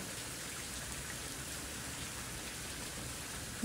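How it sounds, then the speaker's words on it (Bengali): Steady, soft rain falls as an even, continuous hiss with no breaks and no voices, faint and unchanging for the whole stretch. "কি সুন্দর বৃষ্টি"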